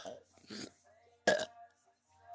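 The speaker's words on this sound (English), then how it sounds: "5 loud burps in a row" A woman lets out loud burps, two or three deep, croaky bursts separated by brief pauses, recorded close up in a quiet room.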